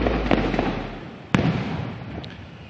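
Fireworks popping and crackling at a distance during a ceremony at Malacañang Palace, with one sharp louder burst midway over a steady rumbling background.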